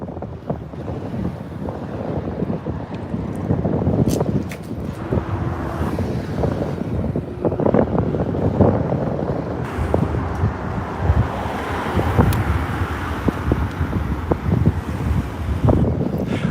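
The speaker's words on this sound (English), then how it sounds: "I know it's probably a little windy." Steady wind buffeting the microphone on a Los Angeles street, a continuous low rumble with gusty bursts, no talking.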